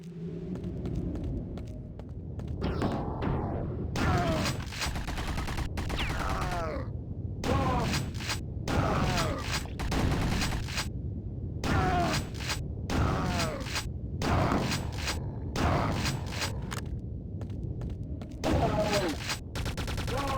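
Quake weapons fire in rapid bursts of loud, close shots, broken by brief silent gaps, with mechanical clatter between volleys.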